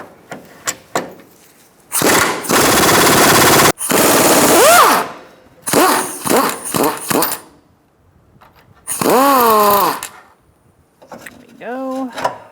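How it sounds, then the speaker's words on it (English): Impact wrench on a 19mm socket backing out a lower control arm suspension bolt on a 2002-2006 Honda CR-V, loud harsh buzzing bursts of a few seconds each, separated by pauses, close by. "I'm going to take out this bolt,"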